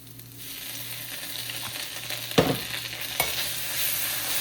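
Noodles frying in a pan with a steady sizzle as Jain tomato sauce is stirred in, with two sharp scraping knocks of the utensil against the pan standing out.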